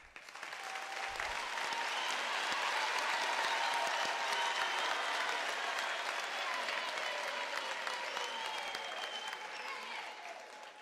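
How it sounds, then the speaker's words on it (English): An audience at a UNISA university autumn graduation ceremony gives steady, sustained applause that holds evenly for about ten seconds, dense and continuous like a large hall of clapping hands, with faint voices mixed in. "I believe the graduates deserve a thunderous round of applause."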